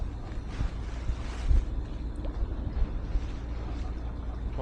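A sailboat motoring under engine power in breezy conditions on open sea with swell, a steady low engine drone mixed with continuous wind buffeting across the microphone and water wash, brief louder gust bursts.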